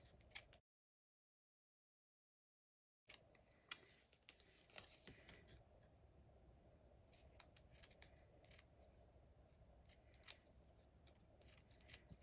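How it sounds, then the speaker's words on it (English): Scissors snip and trim small paper pieces for a stamped papercraft card in quiet, close, intermittent cuts over a near-silent room, with one brief dead gap early on. "So we're just going to trim these with our scissors"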